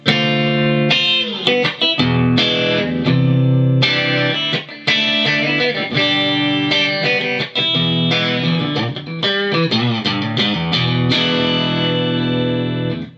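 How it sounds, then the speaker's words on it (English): Electric guitar played through a Fender Machete amp on the clean channel with no boost and a touch of reverb, strummed chords and picked notes ringing out loud and continuous, with brief gaps between phrases. "this is now back to flat, completely flat, on the clean channel with no boost, with a little bit of reverb"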